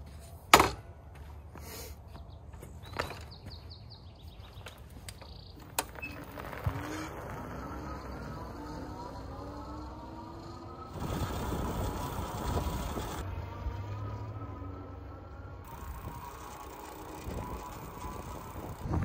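Himiway Cruiser electric bike, a heavy e-bike over 70 pounds, on a test ride: faint mechanical creaks and clicks, a rising whir of motor and tires in the middle, and wind noise, all moderately quiet.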